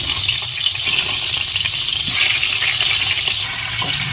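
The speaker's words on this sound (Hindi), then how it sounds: "तो अब हम इसमें जो टिंडे हैं डाल देंगे।" Steady, loud sizzling of tinda (Indian round gourd) hitting hot oil, a continuous bright crackle with no voices.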